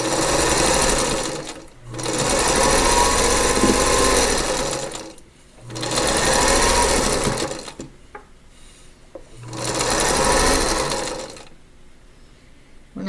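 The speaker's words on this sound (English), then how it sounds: "And I'm going to sew it onto this one" A sewing machine joins quilt pieces for an Alpine Cross sampler block, running in four loud, even bursts with short pauses between them, close by.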